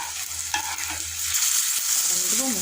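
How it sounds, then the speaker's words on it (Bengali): Potato chops (aloo chop) frying in oil in a pan (kadai), a steady close sizzle with stirring, fairly loud throughout with no talk. "চলো বন্ধুরা চপটা ভেজে নিই"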